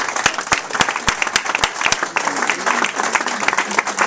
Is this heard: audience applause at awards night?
yes